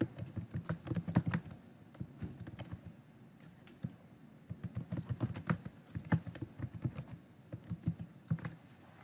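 Fingers type on a computer keyboard in quick irregular bursts of close, crisp key clicks, with short pauses between runs of keystrokes and no talking.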